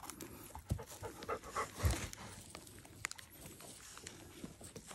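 A dog pants rapidly and close by during an outdoor mushroom-foraging walk, with a steady breathy rhythm, a few soft footfalls and rustles around it, and no talking.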